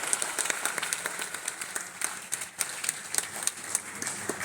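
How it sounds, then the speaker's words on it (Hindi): Crowd applause at a farmers' fair inauguration at Pantnagar university, steady dense clapping from a large audience with sharper individual claps standing out, fairly loud and continuous throughout. "जोर से ताली बजाइए। ये जो गूंज है ना, जो ताली की गूंज है, ये वाहिगुरु के पास पहुंचनी चाहिए।"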